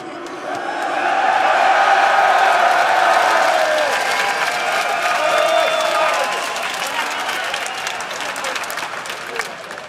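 Large esports arena crowd at a 2014 EU LCS League of Legends match applauding and cheering, loud and sustained, swelling early then slowly tapering, with dense clapping throughout.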